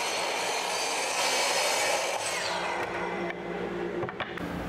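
A saw cuts lengths of wood for the mast of a paint drying rack, making a steady, close, broadband rasp for several seconds. It thins out briefly near the end.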